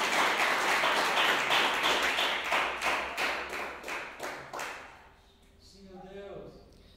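A church congregation claps in rhythm, loud and full at first, the beats fading over several seconds until the applause dies into a quiet room with a few faint sounds.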